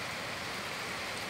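Heavy rain pours steadily in Palawan, a dense, even wash of close rainfall that holds throughout with no voices.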